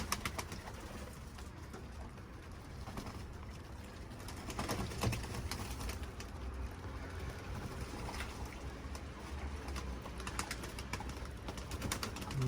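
Pigeons outdoors on a humid, rainy day give soft, low coos, faint and intermittent above a constant background hiss.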